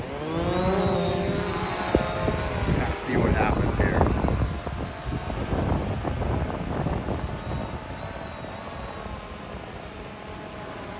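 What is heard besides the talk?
drone flying out over the surf carrying a fishing bait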